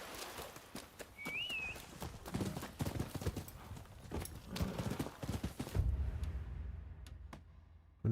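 Clip-clop of horse hooves in a horse video game, steady rhythmic hoofbeats up close with a brief whinny early on and a low rumble near the end.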